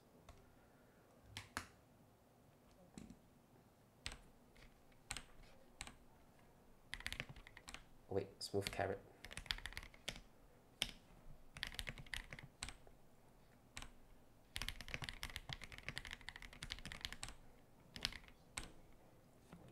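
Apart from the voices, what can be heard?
computer keyboard typing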